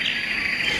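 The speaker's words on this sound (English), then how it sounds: "90 years ago, a forest of bone timber sounded like this." Crickets chirp in a steady, dense shrill drone in a forest of timber trees, a constant insect ambience with no other sounds breaking through.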